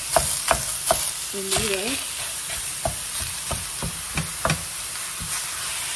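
Two pounds of ground beef cooks in a pan with no oil, stirred with a wooden spatula. A steady sizzle runs under a series of sharp scraping knocks, and a voice speaks briefly.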